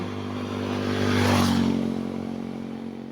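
A motorcycle passes along a road near a school, its engine hum swelling to a peak midway and fading again over a steady low drone of traffic.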